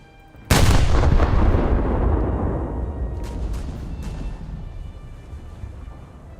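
Russian 180mm naval guns fire in a warship video game, one loud heavy boom with a long rolling decay, followed by a few fainter distant reports as the rumble fades.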